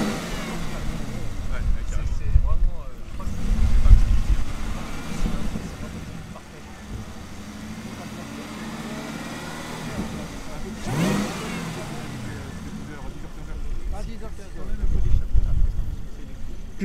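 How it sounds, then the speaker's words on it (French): Chevrolet Camaro ZL1 engine revving in a few heavy swells, with a brief high-pitched turbo-style whine rising between the revs before the engine note returns. "Vous avez entendu, c'est le turbo."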